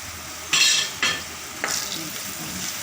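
Noodles being stir-fried with noodle masala in a pan, three loud scraping stir strokes followed by a steady close sizzle, no talking.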